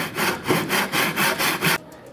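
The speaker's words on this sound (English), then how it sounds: "cutting through the wedge and into the block to give me the same angle on the two cuts" Hand saw cutting through a wooden wedge and into a wooden block in a single pass, about six steady rhythmic rasping strokes close up, loud and alone, ending abruptly.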